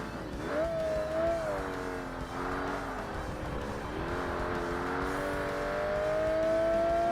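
A Porsche Boxster in the 2005 Xbox racing game Forza Motorsport drones steadily as its engine pitch climbs, dips and rises again through gear changes, a continuous mid-level whine with no talk over it.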